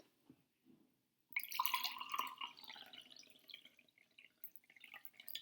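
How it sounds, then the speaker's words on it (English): Water poured from a full cup into another cup, a close, steady splashing trickle that starts abruptly after near silence and slowly tapers off, heard alone without talking. "What if I pour it into this cup?"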